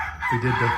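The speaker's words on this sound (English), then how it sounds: "Hear the roosters crowing." A rooster crows briefly nearby at a rural house, a short rising call heard under a person speaking a couple of words.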